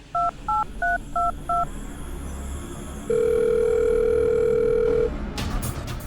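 Telephone keypad tones: five short, evenly spaced beeps, then a pause and a loud, steady tone lasting about two seconds, followed by faint noise, with no talking.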